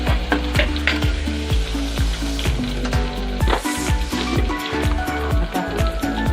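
Garlic-ginger paste fries in hot oil in a pan with a loud, close sizzle, broken by repeated clinks and scrapes of a spoon stirring against the metal. No one speaks.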